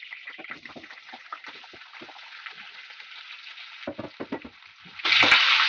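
Steady sizzling of onions frying in hot lard, with occasional stirring scrapes, ending in a louder burst of hissing.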